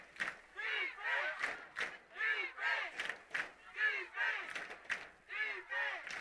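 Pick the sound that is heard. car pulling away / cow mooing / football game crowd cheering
football game crowd cheering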